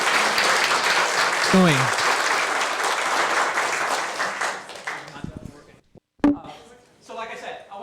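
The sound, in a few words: applause at city council meeting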